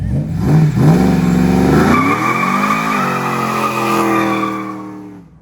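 A 2000 Chevrolet Silverado short-bed drag truck that smokes badly on throttle, its engine revving hard with rising and falling pitch, loud and close, with a tire-squeal edge and no talking.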